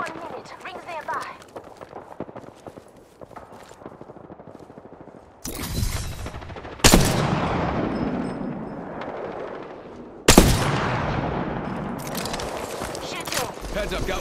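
Gunfire in the battle royale game Apex Legends arrives in sharp bursts, loud close shots breaking out several times over a busy, noisy background, with a quieter stretch before the first volley.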